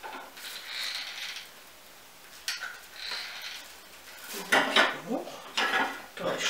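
Small decorative pots clink and clatter as they are handled during the crafting of an upcycled spring and Easter wreath. Light scattered knocks come first, then a denser run of close, sharp clinks near the end.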